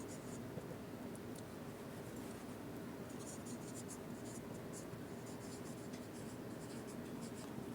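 Pen writing by hand on paper, a faint, continuous scratchy stroke sound with small bursts of quicker strokes, heard up close and alone.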